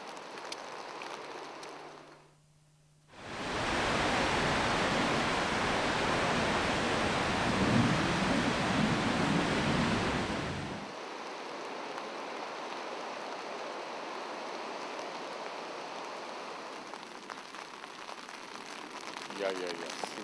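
Ocean waves on a beach struck by a tsunami months earlier, heard as a loud, broad rushing roar that swells in after a short pause and holds for several seconds before fading to a softer background wash.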